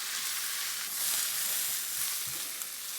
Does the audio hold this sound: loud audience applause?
no